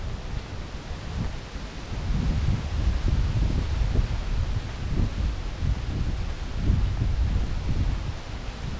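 Wind gusts across a beach beside bungalows in the Maldives, a steady low rumbling buffet against the microphone that strengthens after the first couple of seconds and stays loud and continuous, with no voices.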